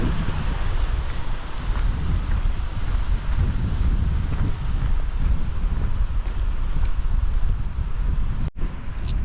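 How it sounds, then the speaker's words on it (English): Strong wind roars across a mountain valley on the Kungsleden trail, a loud, constant buffeting rush with heavy microphone rumble that stays unbroken apart from one brief dropout near the end. "The wind's kind of picked up since we turned in here"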